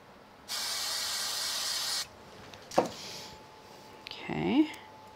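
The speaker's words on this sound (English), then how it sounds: "So I'm going to take and put some spray glue on the back of this." A spray can of glue is sprayed onto the back of a paper overlay for a card, giving one loud, steady hiss of about a second and a half, followed by a few soft rustles and handling noises with a voice speaking.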